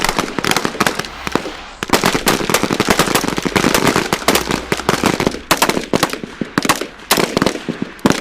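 Rapid rifle gunfire on a military shooting range during Marine Corps boot camp, many sharp cracks in quick, uneven succession, loud and near, with overlapping shots from several shooters and no talk.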